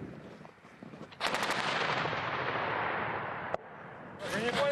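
A heavy artillery cannon shot booms and rolls out in a long, loud rumble, followed by a sharp crack and a second burst near the end.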